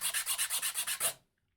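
Sandpaper or a file rubs glued wooden dollhouse parts smooth, nine quick rhythmic rasping strokes up close, then silence.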